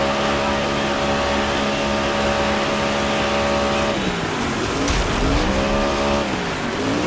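Race car engine in the DIRT 5 video game, a one-gear car, drones loudly and steadily with rising and falling pitch, joined midway by squealing tires and skidding.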